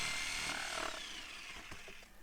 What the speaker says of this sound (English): and finished it off with a sawzall.